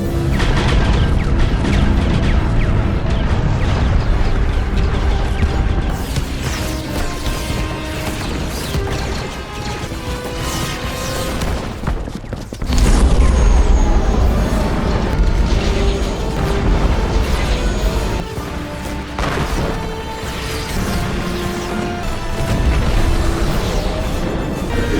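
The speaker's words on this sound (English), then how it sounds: "Have the main batteries target the fortress for bombardment." Main batteries of a Star Wars fleet bombard a fortress in a dense, continuous barrage of booming blasts and crashing explosions over a rumbling cinematic roar. A heavy low-end burst hits about halfway through.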